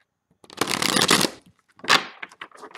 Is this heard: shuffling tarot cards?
yes